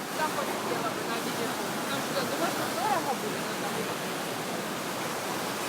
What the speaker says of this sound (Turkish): Düden Şelalesi meşhur.